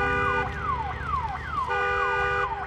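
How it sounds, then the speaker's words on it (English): An alarm sounds in the PlayStation 4 game Days Gone, a loud repeating descending electronic wail with a steady warble, cycling several times without pause. "Damn alarm."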